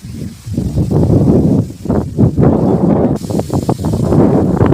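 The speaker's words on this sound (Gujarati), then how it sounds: "તો મિત્રો અત્યારે ફૂલ પવન આવી રહ્યો છે." Strong gusting wind sweeps across an open field of maize during a dusty storm, roaring and buffeting loudly and close without pause, with rustling from swaying crops and neem trees.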